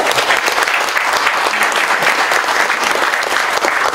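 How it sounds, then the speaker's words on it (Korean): Dense, steady applause fills a breakfast lecture hall at a Korean defense industry forum as the Defense Acquisition Program Administration chief is welcomed to the podium, loud and continuous for the full stretch with no talk over it. "큰 박수로 환영하겠습니다"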